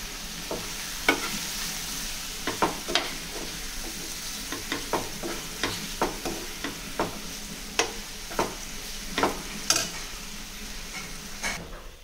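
Everest garam masala frying with chicken in a pan, a constant close sizzle broken by regular sharp spoon-scraping stirs every second or so, with no talking.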